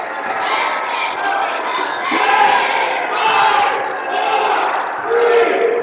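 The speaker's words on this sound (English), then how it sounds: "Carroll cheering section trying to trick the Norwell Knights into thinking there's less time than there is." A student cheering section at a boys varsity high school basketball game in a gym chants loudly in rhythmic waves, a roaring crowd sound with sneaker squeaks and occasional ball bounces underneath.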